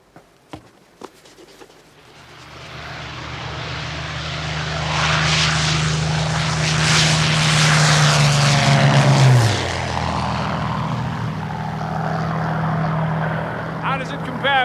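A propeller fighter plane roars in from a distance, swells to a loud close drone, then drops in pitch as it passes and recedes, with people talking around it.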